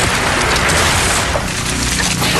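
Foundations crack and splinter in a cartoon after an explosion, a dense, loud, continuous crackling and crumbling roar with no voices over it.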